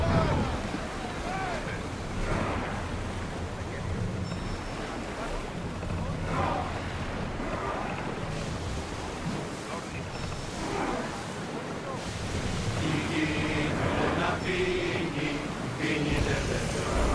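An ancient ship at sea in Assassin's Creed Odyssey, with waves washing against the hull, wind gusting and water surging, steady and broad under occasional voices.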